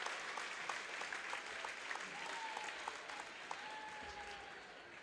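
Sustained applause from a high school basketball crowd honoring the 2019 senior players at a Class 3A substate game in the gym, a steady wash of clapping with scattered cheers throughout.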